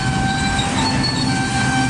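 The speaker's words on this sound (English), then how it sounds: "he could have to wait for this intermodal train" An intermodal freight train rolls past close by, a loud steady rumble of wagons with faint wheel squeal and ringing tones over it, continuous throughout with no talk.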